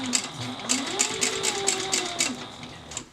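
A sewing machine stitching a bag, close and clear, its rapid mechanical chatter pulsing in short rhythmic bursts with brief pauses between runs of stitches.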